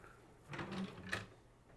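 Wooden drawer on rollers in a dog crate end table sliding open, a short, faint rolling rumble ending in a soft knock.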